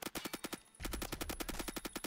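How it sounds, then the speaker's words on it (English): Rapid automatic gunfire in the online shooter Phantom Forces, fired through walls in two fast strings of loud, evenly spaced shots split by a brief pause. "He's shooting through walls!"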